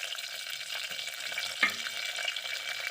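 Onions and green chillies fry in a pan with a soft, steady sizzle and faint crackle, quiet and continuous, with one brief louder pop near the middle.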